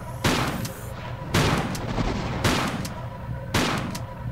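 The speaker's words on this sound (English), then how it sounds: "Shotgun power, come on." Shotgun in Tomb Raider IV: The Last Revelation fires four loud, booming blasts about a second apart, each with a short decaying tail, over faint background hum.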